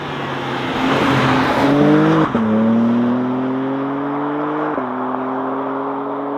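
A BMW M3 Touring heard from the back seat while a friend drives, its loud engine note rising through the gears with distinct shift breaks and no talk over it.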